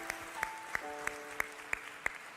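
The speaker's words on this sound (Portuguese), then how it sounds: "Você quer dar mais um aplauso ao Senhor?" A church congregation at a Sunday service clapping in steady unison: sharp, evenly spaced claps about three per second, fairly quiet, over a faint sustained tone.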